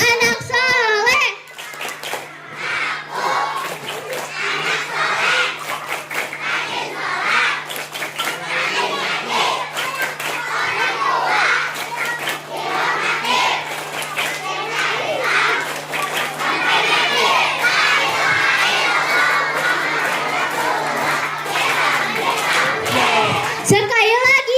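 Schoolchildren at an Isra Mi'raj event at SDN 1 Lewo chant the tepuk anak soleh clapping rhyme together, a loud crowd of young voices shouting in rhythm with scattered hand claps, led by an adult's voice over a faint steady hum.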